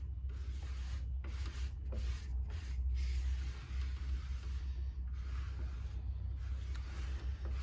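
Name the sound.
spraying thin coat of shellac sealer on guitar body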